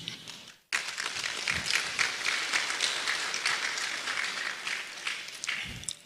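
An audience at the 2026 Asantehene Otumfuo Osei Tutu II Art Awards ceremony bursts into sustained applause for the laureates after a brief silence, the clapping dense and steady until the end.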